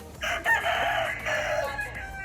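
A Sweater gamefowl rooster crows loudly and close on a game farm, one long drawn-out cock-a-doodle-doo with faint background sounds and no talk over it.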